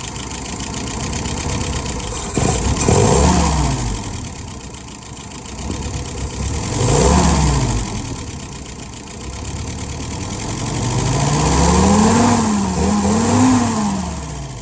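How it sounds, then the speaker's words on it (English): A Yard-Man YS 637S garden tractor engine, its dwell set to 42 degrees, cranks and settles into a steady, fairly loud idle, with the pitch rising and falling through a few revs along the way and no talk over it. "let's go ahead and crank her up a little bit for you"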